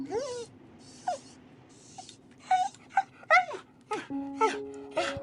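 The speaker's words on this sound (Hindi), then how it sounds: "कुत्तों ने अचानक रोना शुरू कर दिया" Dogs crying and howling on a dark street at night: a series of drawn-out, wavering wails and whimpers rise and fall one after another, fairly close, with short gaps between them.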